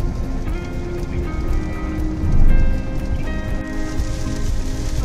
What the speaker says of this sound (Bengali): আর এদিকে মুষলধারে বৃষ্টি হচ্ছে